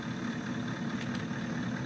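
Tractor engine idling in the farming video game Farming Simulator 19, a steady low rumble with a constant hum running alone throughout, moderately quiet and unchanging.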